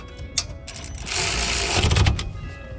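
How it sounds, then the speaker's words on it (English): A ratcheting wrench spins brake caliper bolts tight on a 2015 Citroen C4 Picasso, giving a few quick clicks followed by a sustained whirring ratchet burst, close and loud. "I'm just going to whiz them up with my trusty ratcheting wrench"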